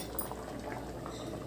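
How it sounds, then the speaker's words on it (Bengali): A vegetarian pumpkin and pea curry boils in a pot, giving a soft, continuous bubbling close by for a brief moment with no talking. "ঝোলটা আমার ফুটছে।"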